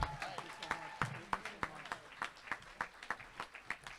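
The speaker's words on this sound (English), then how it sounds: "Please give Mr. Gonzalez a round of applause." Scattered, thin applause from a small audience at a school district convocation, a few distinct claps spaced out and faint, with a voice murmuring under it.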